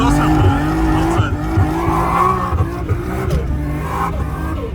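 Nissan R32 and R34 GTR engines roar loud and steady on snowy Arctic streets in Finland, with tire squeal from spinning wheels rising and falling beneath it and voices talking over the noise.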